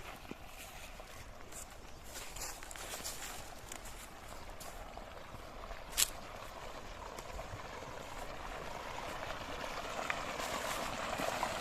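Irrigation water flowing steadily from a coiled pipeline into a wheat field, a continuous outdoor rushing wash of moderate level with one brief sharp knock near the middle and no talk.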